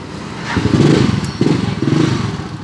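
A freshly tuned-up Mojo 200 motorcycle engine idles and revs in two surges, a low rumble swelling and easing, heard up close with no talking.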